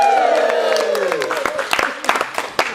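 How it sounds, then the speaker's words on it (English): Improv show audience whooping, yelling and clapping together, a loud close crowd burst of cheers and woos that thins into scattered claps and hoots. "you guys are going to hoot and holler and yell and clap and woo!"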